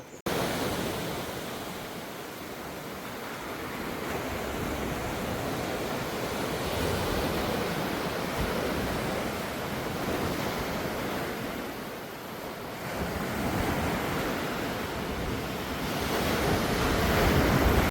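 Ocean waves at Kakolem Beach in South Goa roll in steadily as a continuous broadband surf roar, with swells rising and falling over the whole stretch and some wind rushing across the microphone.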